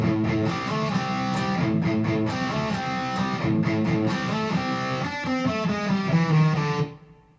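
A distorted electric guitar plays a driving, chugging section of a riff, loud and continuous for about seven seconds before the final notes ring out and fade.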